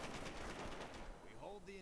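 Machine gun fire crackles in bursts from a World War II strategy game, quiet and fairly distant, with the rattle fading into softer in-game effects toward the end.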